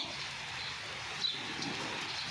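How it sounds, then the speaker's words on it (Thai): Heavy, steady rain pours down outside a house with no wind driving it, a dense even hiss of drops filling the whole stretch without a break. "ฝนไม่สาดนะคะ ตกแรงนะคะ แต่ไม่มีลมนะคะ"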